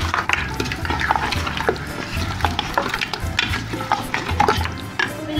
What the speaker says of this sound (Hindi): दही डाल के अब हम इसको और मज़ीद 10 मिनट तक अच्छे से भूनेंगे।